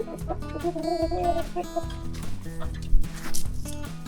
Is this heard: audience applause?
no